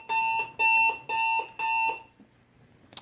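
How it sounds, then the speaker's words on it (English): An alarm clock rings in four loud, evenly spaced electronic bursts of a steady beeping tone, then stops, leaving a quiet room with a faint click at the end. "that's my alarm clock saying, girl, get up, get up"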